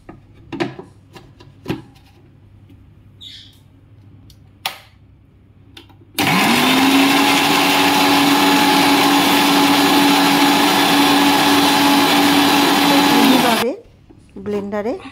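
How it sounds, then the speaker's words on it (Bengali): After some brief knocks and handling sounds, a kitchen blender roars steadily for about seven seconds, grinding cashew nuts soaked in warm water, then stops. "10 মিনিট পর কাজু বাদামগুলো এবার ব্লেন্ডারে ব্লেন্ড করে নেব।"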